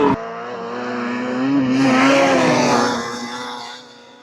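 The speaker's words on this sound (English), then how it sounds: "I'm really happy with how well the sleds are running" Rebuilt snowmobiles ridden through the backcountry: a close, loud engine drone that rises in pitch as the throttle opens, peaks, then eases back down over a few seconds.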